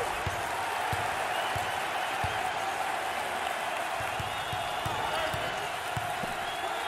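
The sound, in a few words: crowd cheering for a basketball player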